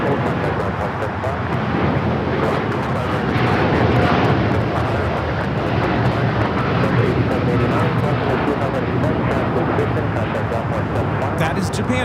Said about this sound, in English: That is Japan Airlines Flight 69 taking off to Osaka on the 787-9 Dreamliner